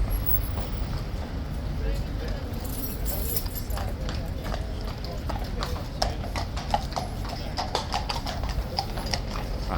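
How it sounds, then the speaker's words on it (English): A horse walks at Horse Guards with steady, crisp clip-clop hoofbeats that grow more distinct toward the end, under a continuous wash of crowd chatter and talking voices. "my money's on it being a horse that was here Monday returning"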